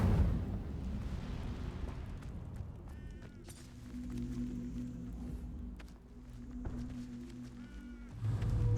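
An Incendio fire spell is cast in Hogwarts Legacy. Fiery, rumbling bursts open and close the stretch, with quieter crackles and soft movement sounds between them.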